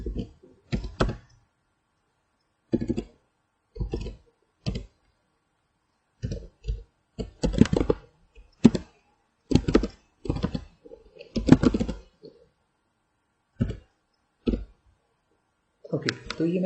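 Close keystrokes on a computer keyboard while C++ code is typed, coming in separate short bursts of clicks with silent gaps between them, loud and dry, with no talk over them.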